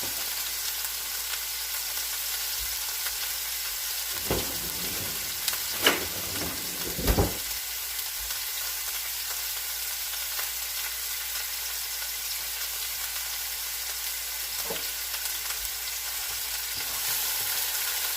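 Onions for an Irish-style shepherd's pie fry in a pan with a loud, constant hiss, a few clunks of stirring around the middle and near the end, and no voices.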